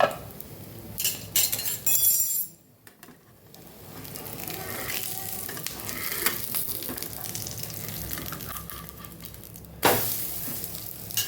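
Handvo batter sizzles in a covered pan, a soft, steady frying hiss with a few clinks of the lid or utensils near the start and end.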